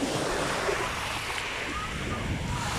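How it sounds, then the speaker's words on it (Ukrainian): Steady rush of sea surf on a Greek shore with a broad, constant wash and some wind noise, continuous throughout at a moderate level. "або шум моря, ну кому як краще."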